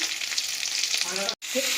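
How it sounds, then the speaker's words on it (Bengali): Close, dense sizzle of kalbasu and rohu fish pieces frying in hot oil, continuous and crackling, with a short break near the end. "মাছগুলোকে আমরা উল্টে পাল্টে ভালো করে লাল লাল করে ভাজা করে নেব"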